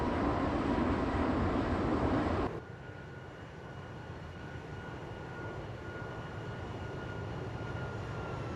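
Steady roar of an airliner engine on takeoff in X-Plane 11, loud broadband rumble that drops to a quieter, even drone partway through and holds there, with no talk.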